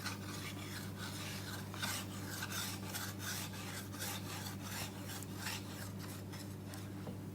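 A small hand saw cuts through thin wooden sticks in steady back-and-forth raspy strokes, roughly two a second, close and fairly quiet over a low constant hum.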